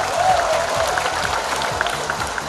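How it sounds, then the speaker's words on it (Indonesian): An audience applauds an official at a government visit event, a continuous wash of clapping over a low rumbling background, with a faint voice briefly audible. "Tepuk tangan yang meriah untuk beliau."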